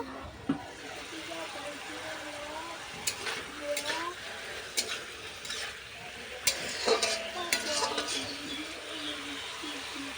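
Cut vegetable stalks with mustard paste stirred in a pan, scattered scraping and clanking of a spatula over a low sizzle, with a voice speaking at times in the background.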